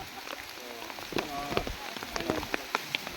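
Rain falls steadily in a forest, a dense hiss of drops hitting leaves and ground with scattered louder patters, while faint voices and splashing play in the background.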